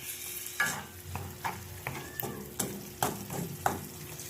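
Pechay greens with salt and black pepper stirred in a frying pan: a steady sizzle under repeated scraping strokes of a utensil, about once or twice a second, close and clear with no talking.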